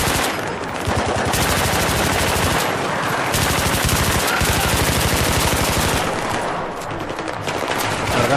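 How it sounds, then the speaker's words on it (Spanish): Light machine gun in Battlefield 3 firing long, loud, sustained bursts of rapid, close automatic shots, with only brief gaps between strings. "¡Lo más me gustan, ametralladoras ligeras!"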